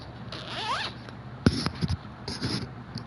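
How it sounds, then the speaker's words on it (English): A clothing zipper on a onesie drawn open in quick, close, scratchy strokes, with a sharp rasp midway and a few shorter pulls after, fairly quiet and with no talking. "I'm unzipping my shirt for reals to do this."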